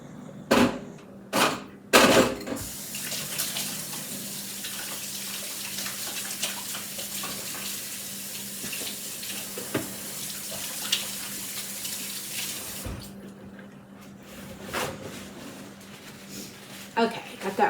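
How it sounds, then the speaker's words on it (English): Water runs from a kitchen tap as hands are washed beneath it, a steady close hiss with a few sharp clicks and knocks at the start and end. "I'm going to wash my hands."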